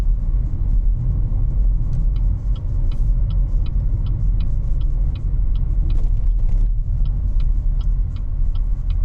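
A 2026 BYD Seal 5 hybrid car driving with engine and electric power together, heard from inside as a steady, loud low road rumble with a faint regular ticking, and no talk.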